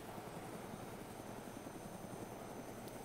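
Helicopter in the video game DayZ Epoch, a steady continuous rotor and engine drone at moderate distance, holding even for the whole stretch with no voices over it.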